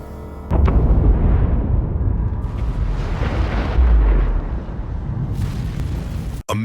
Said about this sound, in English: Then, boom, an explosion rips through Reactor 1.